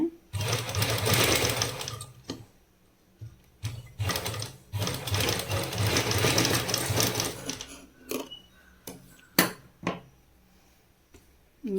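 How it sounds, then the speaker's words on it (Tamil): A sewing machine stitches a sharp cup dart on the front of a blouse, running in long close whirring bursts with short pauses and a few clicks and knocks between runs. "கரெக்டாக அந்த டாட்லேருந்து நீங்கள் தைக்க ஸ்டார்ட் பண்ணுறீங்க இல்லையா"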